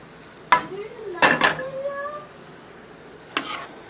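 Crispy smoked sausages are stirred into sauce in a pan, giving a few sharp scraping clinks and brief stirring sounds that stand out against a quiet background, with a voice partly heard alongside.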